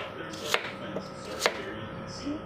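A knife chops an orange into small pieces on a cutting board, two crisp distinct strikes about a second apart with a softer tap between, close and quiet.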